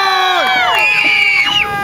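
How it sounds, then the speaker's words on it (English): A crowd of people at Universal Studios scream as loud as they can, a loud, dense wall of overlapping high-pitched voices held for nearly two seconds before trailing off. "Scream as loud as you can."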